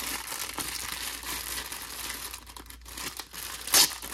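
A large resealable plastic pouch from a Turkish legume and grain field ration is torn and crinkled open, with continuous close rustling and one sharp rip near the end.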